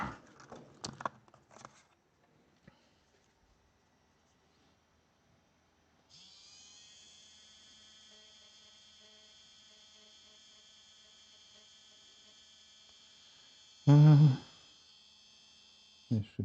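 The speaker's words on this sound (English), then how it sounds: "we'll need to grind a bit" Small rotary grinding tool works a pad on the circuit board of Fatshark FPV goggles, a faint steady high whir held for several seconds, with brief handling clatter before and a loud knock near the end.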